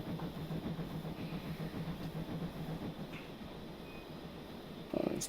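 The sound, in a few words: train running in a train simulator video game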